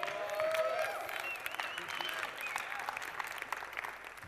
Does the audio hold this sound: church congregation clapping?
yes